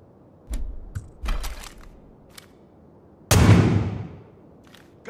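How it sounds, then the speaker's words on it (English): A few sharp, distant gunshot cracks in the video game Far Cry 5, then one loud, close gunshot with a ringing decay, amid quiet background noise; no speech. "Gunshots close by."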